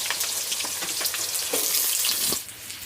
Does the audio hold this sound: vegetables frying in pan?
yes